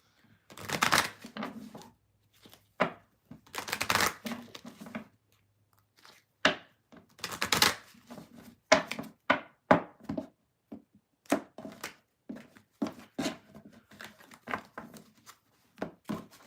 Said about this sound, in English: 2 more cards, 2 more decks to shuffle